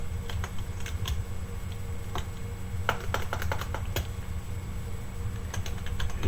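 Rapid typing on a computer keyboard, with irregular bursts of sharp key clicks running steadily through the stretch over a low hum, close by and moderately loud, with no talking.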